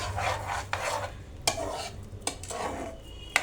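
A spoon scrapes and stirs milk powder and sugar into a thickening carrot sweet in a pan, producing repeated rhythmic rasping sweeps with a few sharp clinks against the metal, close up and without talk.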